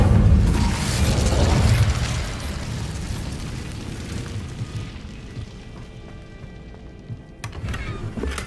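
The Incendio fire spell is cast in Hogwarts Legacy, a loud whooshing burst of flame that surges at the start, then fades into a lingering rumbling crackle and a faint mechanical tail.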